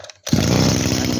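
A used Japanese lawn mower engine runs at high speed, a loud, steady buzzing drone that starts abruptly after a brief quiet moment and holds constant.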